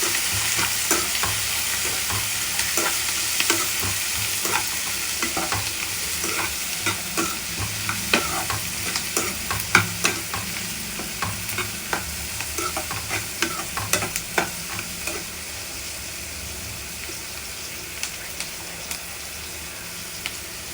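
Ingredients for paneer butter masala fry at a medium level in a pan, a dense steady sizzle broken by frequent irregular scraping and stirring clicks, close and loud with no voices.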